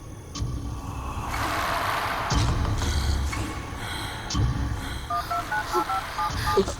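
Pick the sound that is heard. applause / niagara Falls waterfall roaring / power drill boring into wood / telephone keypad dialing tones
telephone keypad dialing tones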